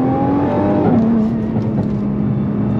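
A Nissan GT-R pulls hard in first gear, engine note rising in a continuous loud roar that holds steady through the run, close and undisturbed by speech.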